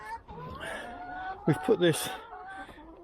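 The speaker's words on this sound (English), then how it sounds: "Let the chickens out." Backyard allotment chickens cluck in a few short bursts as they come out of their shaded run, heard nearby beneath a voice talking over the scene.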